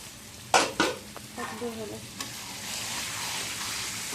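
Meat and potatoes sautéing in a pan, opening with two sharp stirring scrapes before settling into a continuous close sizzle.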